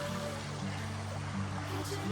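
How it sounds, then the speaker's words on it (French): A river runs just below a riverside campsite in Québec, heard as a soft, steady rush of flowing water with a faint low hum underneath and no talking. "Et juste en bas, c'est la rivière."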